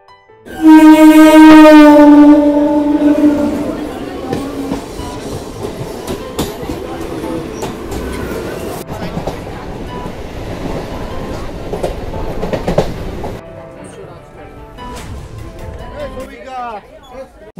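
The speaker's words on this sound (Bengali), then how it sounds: "এই ট্রেনটাই কিন্তু ক্যানিং লোকাল, এই যে লেখা আছে ক্যানিং" A Canning local train on the line toward the Sundarbans opens with a loud horn blast, then rolls on with a continuous rattling rumble and clatter of the carriages.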